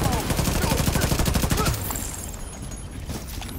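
Rapid automatic gunfire in The Division 2, a loud steady burst of rounds fired at grenades for under two seconds, then cutting off into a quieter game ambience.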